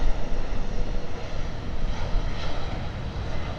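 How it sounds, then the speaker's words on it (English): A Delta Boeing 757 with Pratt & Whitney engines takes off at Tampa International Airport, a loud, continuous jet roar that swells and wavers with no talking over it. "There it goes, 757. Ooh, it's Pratt & Whitney engines."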